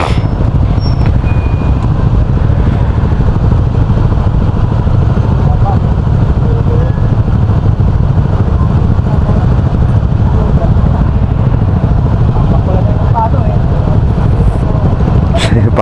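Dense traffic with many motorcycles, a steady, loud wash of engine noise and passing motor hum, with no clear pauses.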